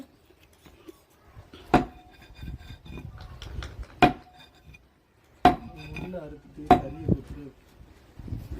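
A knife strikes dried fish on a board in a few sharp, spaced chops, with clattering handling sounds between the cuts and occasional low background voices.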